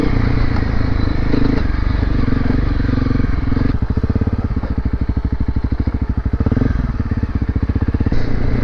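A Honda CRF250L Rally dual sport motorcycle rides off-road over a rocky trail, its engine droning loud and close throughout, changing to a steady rapid chugging pulse partway through, with scattered clatter and thumps from the rough ground.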